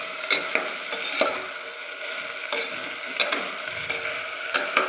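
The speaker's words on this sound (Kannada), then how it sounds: "ಅದ್ರ ಜೊತೆಗೆ ಕ್ಯಾರೆಟ್ನ ಕೂಡ ಹಾಕ್ಕೊಂಡು ಎಣ್ಣೆ ಚೆನ್ನಾಗಿ ಬೇಯಿಸ್ಬಿಡ್ತೀನಿ" Vegetables with carrot are stirred in hot oil in a pan, a soft continuous sizzle broken by repeated sharp clicks and scrapes of a spoon against the pan at irregular intervals, close by with no voices.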